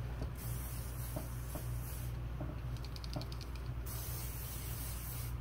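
A steady hiss of a dry oil hair spray, continuous for several seconds with faint pulsing, close and fairly quiet, no voices.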